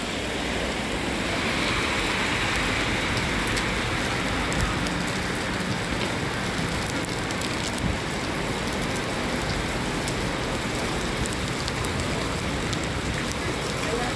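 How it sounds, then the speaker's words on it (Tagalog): Heavy rain pours down steadily and close by, a dense continuous hiss that fills the whole stretch without letting up. "Ang lakas ng ulan."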